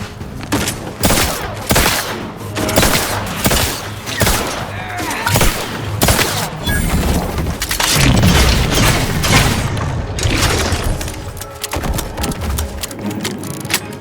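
Rapid automatic gunfire from a weapon in Outer Worlds 2 rattles in dense, loud bursts almost without pause, mixed with booming impacts and game effects across the whole stretch.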